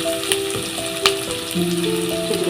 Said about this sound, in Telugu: అల్లం వెల్లుల్లి పేస్ట్ వేసేసుకోవాలి ఈ ఆనియన్స్ వేగాలి